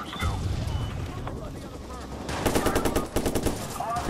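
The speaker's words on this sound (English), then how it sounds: "I'm getting shot from somewhere" Rapid bursts of automatic gunfire crackle in a chaotic shootout in the video game Watch Dogs Bad Blood, loud and dense, with game sound and a voice underneath.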